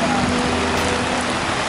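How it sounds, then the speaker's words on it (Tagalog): Heavy rain falls in a dense, continuous hiss, loud and close, with a faint low hum underneath. "Umulan na talaga guys, malakas na yung ulan."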